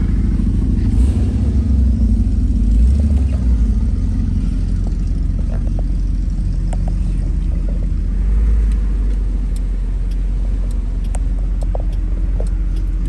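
A 1966 Ford Thunderbird engine idles with a steady, deep low rumble that holds evenly throughout, loud and continuous, with no one talking.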